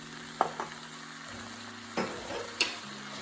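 Soy sauce being stirred into Szechuan chicken frying in a pan: a steady sizzle with a few brief scraping stirs, close and moderately loud, no talking.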